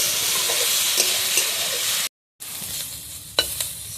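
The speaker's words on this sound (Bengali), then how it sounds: "শাকটা আমি এইভাবে ভালোভাবে ভেজে নিয়েছি।" Ghetkol leaf greens fry in a pan with black cumin, dried red chili and garlic, giving a steady close hiss with a few stirring scrapes and a brief silent break partway through.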